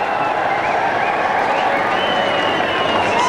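A Test-match crowd in Lahore, Pakistan against England in 2000, keeps up a steady roar of clapping and murmuring for Shahid Afridi, broad and continuous, with a commentator's voice mixed in.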